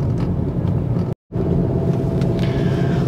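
Continuous low engine rumble and road noise from inside a car being driven in Las Vegas on a delivery run, steady and close, broken by a brief dropout.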